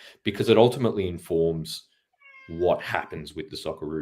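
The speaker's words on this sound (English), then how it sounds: "Yeah, that's my cat." A pet cat named Axel meows close by in a home, its short cries sounding between and under a man's ongoing speech.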